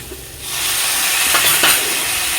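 Hot water poured into a pan of frying potato curry, setting off a loud, steady steam hiss and sizzle that starts abruptly and holds close up for a couple of seconds.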